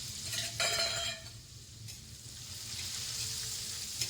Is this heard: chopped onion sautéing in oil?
yes